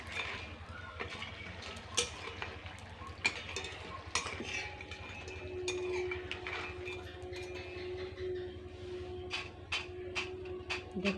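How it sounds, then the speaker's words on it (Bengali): Crispy fried leftover-rice kurkure snacks rattle and clink against a metal strainer as they are lifted from hot oil, a quiet run of irregular sharp clicks over a low steady hiss. "ঝমঝম করে আওয়াজ হচ্ছে, এতটা সুন্দর খাস্তা হয়েছে।"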